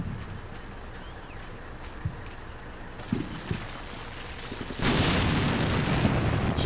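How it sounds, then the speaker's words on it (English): A long-wrecked vehicle burns with fuel in the war game Combat Mission: Black Sea, giving a low rumble with a few dull thumps that swell into a loud, roaring crackle of flames. "It's just an exploding vehicle"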